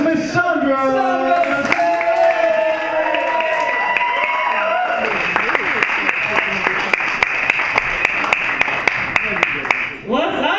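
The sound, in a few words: audience applause and cheering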